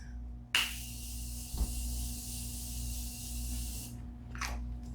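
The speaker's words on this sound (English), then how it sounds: "I'm going to go in with this Morphe Continuous Setting Mist." A Morphe Continuous Setting Mist sprays in one long, close, steady hiss lasting about three seconds, preceded by a small click and followed by a short second puff.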